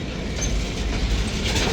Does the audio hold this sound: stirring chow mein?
no